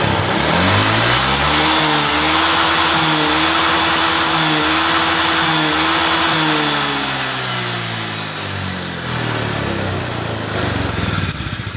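Honda Vario scooter engine idling steadily up close, burning oil, a buzzing hum that rises slightly in pitch and then settles lower, loud and alone without talk.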